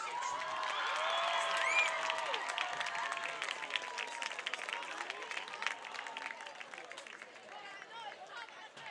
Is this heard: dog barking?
no